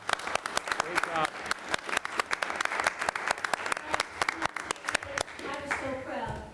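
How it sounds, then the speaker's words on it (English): Applause from a town board work session audience: dense, uneven clapping rising and falling close by, with a few louder individual claps, fading toward the end. "just give them a round of applause."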